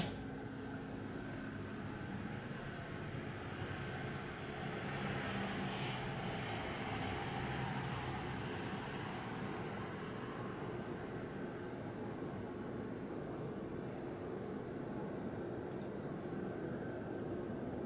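Plastic-bladed ceiling fan running on high speed indoors gives a steady, even whooshing rush of moving air with a faint motor hum, constant and unbroken throughout.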